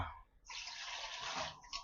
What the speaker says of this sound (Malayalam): ഒരു കപ്പ് വെള്ളം ഒഴിച്ച് നോക്കാം